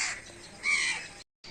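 Crows caw from a rooftop in a rainy village setting, two harsh calls in quick succession heard fairly clearly, with no talking over them.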